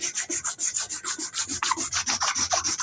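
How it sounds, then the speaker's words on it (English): Hand sanding the handle of a dagger during final smoothing and contouring, a steady close rasping rub repeated in even back-and-forth strokes, about five or six per second, with no talk. "just do a final sanding on it"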